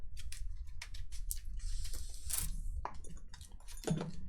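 Keyforge cards riffled and shuffled during a tabletop tournament game, a run of crisp papery flicks and snaps in quick bursts, close and fairly loud, with no talk over it.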